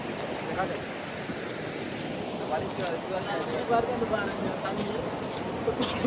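Steady rushing water from an opened irrigation dam roars continuously, broad and full, with a faint voice or two mixed in underneath.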